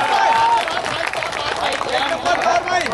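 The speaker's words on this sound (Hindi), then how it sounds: "भैया जोरदार तालियां बजा के मुझे बताएगा।" Audience at a Hindi-Urdu poetry mushaira in Raniganj, Pratapgarh, applauding a recited couplet: a dense, sustained wash of many hands clapping throughout, with a voice talking over the crowd.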